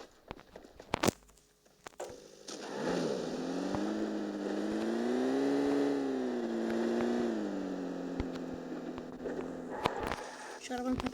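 A car in the mobile battle game PUBG Mobile, its engine droning and rising in a long smooth revving tone as it drives, moderately loud under an ongoing voice chat.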